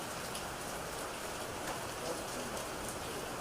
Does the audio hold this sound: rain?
yes